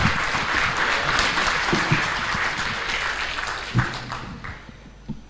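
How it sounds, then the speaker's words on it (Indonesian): Sustained applause from a crowd at an Indonesian political party's national coordination meeting, greeting party leaders; dense, steady clapping that thins slightly toward the end, with a few louder bursts near the close. "mari kita tepuk tangan yang meriah untuk para pemimpin kita"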